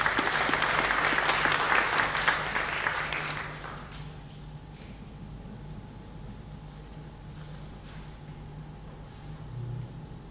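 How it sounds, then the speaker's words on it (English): An audience at an artist talk applauds for Isaac Julien, a dense burst of clapping that fades out after about four seconds into quiet room hum. "So a huge round of applause for Isaac Julien."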